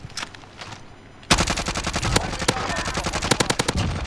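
Rapid automatic fire from a Krig 6 rifle in Call of Duty, a loud, steady stream of close shots that starts abruptly after a quiet opening with a few scattered distant shots.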